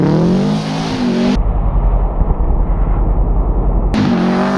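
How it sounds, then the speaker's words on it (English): A car drifts on Nokian VikingContact7 winter tires, its engine revving loud and close, dropping into a lower strained drone mid-slide before climbing again, with no talk over it. "Just gonna go for a little drift in this."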